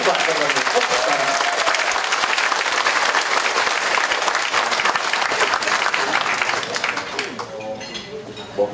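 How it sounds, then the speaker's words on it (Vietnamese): Audience applause at a temple vegetarian fundraising banquet, loud and sustained clapping from a large crowd that fills the room, then thins and fades toward the end. "Xin quý vị cho một tràng pháo tay thỉnh Hòa Thượng Thích Quốc Tịnh."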